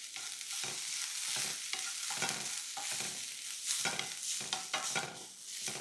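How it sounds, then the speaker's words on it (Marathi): Tadka of asafoetida and turmeric sizzling in a pan, a steady crackling fry broken by repeated stirring scrapes, close and fairly loud with no voices. "आणि ही अशी तयार फोडणी झाली की गॅस आता मी बंद केला"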